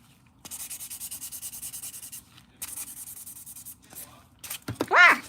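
A nail buffer block is rubbed back and forth across fingernails in quick, even strokes, close and crisp, in two long bursts with a short pause, ending with a brief vocal exclamation.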